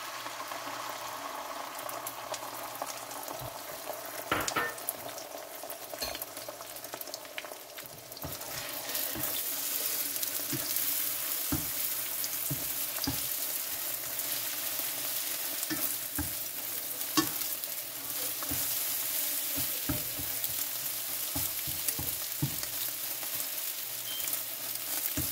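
Two scrambled eggs sizzling and frying in a pan, a steady, close crackle with frequent stirring scrapes throughout and no talking.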